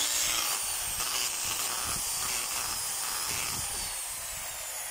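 A Stanley STDH7213 half-inch corded drill runs steadily at close range, a continuous loud motor whine with a buzzing, rattly edge that holds evenly throughout.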